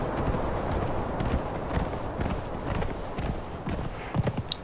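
Horse hooves thud in a rhythmic clip-clop while riding in Conan Exiles, with a steady gait at close range and a faint background bed beneath.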